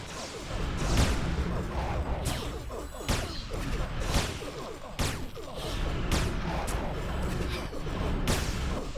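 Turret gunfire in the Anarchy Online game, heavy booming shots and crashing impacts roughly every second or two over a dense, loud battle rumble, with no voices.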